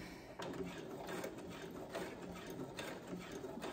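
A Brother sewing machine stitches over earlier seams on a McCall pattern project, producing a quiet, steady whir with a faint mechanical ticking at close range. No one talks.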